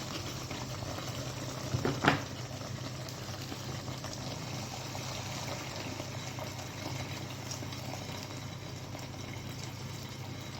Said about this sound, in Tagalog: Need natin siya lagyan ng tubig.